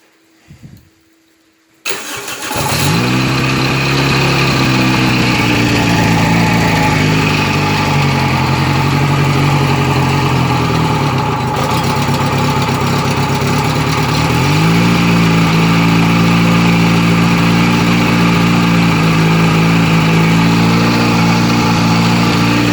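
A petrol motor pump driven by a Suzuki 1.3 l engine, feeding an MP-800 pump with a widened impeller, cranks after a brief pause, catches and settles into a loud, steady running drone, its pitch rising slightly partway through.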